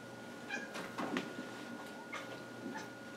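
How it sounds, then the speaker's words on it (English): A cat meows several times in short, plaintive calls spaced across a few seconds, fairly close, over a quiet room with a faint steady hum. "My cat's making weird noises in the window."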